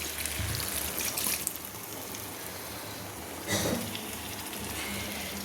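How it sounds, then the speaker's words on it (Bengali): Water is poured into a cooking pot with greens, fish head and pumpkin. It makes a soft, close trickle and splash, with a louder burst of pouring partway through and no speech. "আমি জল অ্যাড করে দিচ্ছি পরিমাণ মতো জল।"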